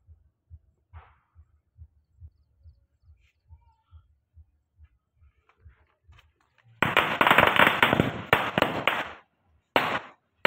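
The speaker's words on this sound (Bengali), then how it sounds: "বাজি ফাটা দেখছো না তুমি, বাজি ফাটা বাজি ফাটছে তো" Diwali firecrackers go off as a dense, loud crackling burst lasting a couple of seconds, then a short second burst. A steady, faint low thumping comes just before them.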